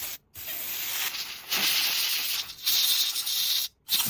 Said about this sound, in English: Use an air gun to thoroughly dry the spray gun.